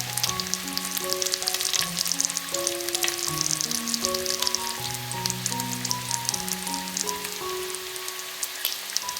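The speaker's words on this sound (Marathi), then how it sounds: "तेल चांगलं तापलं ना की त्यात मस्तपैकी पाच ते सहा पाकळ्या लसूण चेचून घालायचं आहे" Crushed garlic cloves frying in hot oil, a dense, loud crackling sizzle that holds steady throughout, with a melodic background tune playing underneath and no one speaking.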